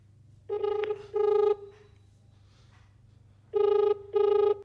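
A phone call rings out in evenly paired electronic ringback tones, two short beeps, a pause, then two more, clear and close with a faint hum beneath.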